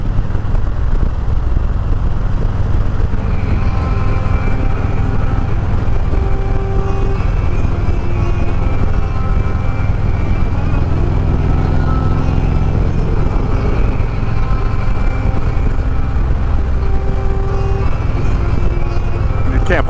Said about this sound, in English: that little Ryker is just pumping along with no problem